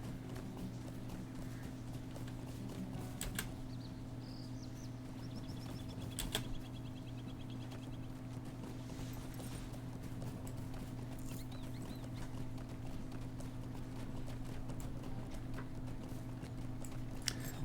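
An elk mount's hoofbeats in the game Lord of the Rings Online, with faint, steady clip-clop footfalls over a constant low hum and occasional soft ambient sounds.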